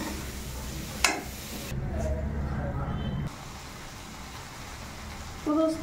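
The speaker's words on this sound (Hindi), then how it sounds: "अब इसको अच्छे से मसाले में भून लूंगी, 1 से 2 मिनट तक सेकना है बहुत अच्छे से।" Okra stirred and roasted in spices in a pan over low heat: a steady soft sizzle with scraping strokes of a spatula, a sharp clink near the start, and some talk in the background.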